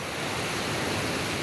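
Steady rushing surf at a beach, a continuous broadband wash of ocean waves, loud and close with no voices.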